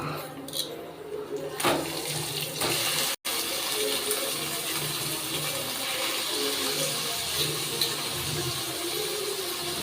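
Fresh raw chicken is washed under a running kitchen tap, with a steady close rush of water broken by a brief pause, and a few handling knocks near the start.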